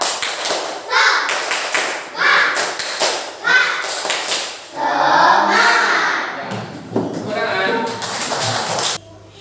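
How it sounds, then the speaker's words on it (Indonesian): A standing school class performs a rhythmic clap chant, with bursts of sharp clapping in patterned groups alternating with children's shouted chanting, loud and close, ending abruptly. "Mari kita tepuk semangat."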